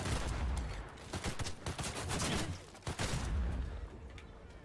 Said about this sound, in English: this is the Death and Taxes. It's got quite a nice sound, quite a nice kind of gun sound